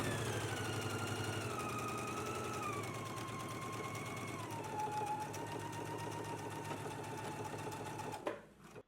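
A sewing machine runs steadily while stitching the inner leg seams of a pair of pants at a 5/8-inch seam allowance, a continuous close whirring hum that stops abruptly near the end.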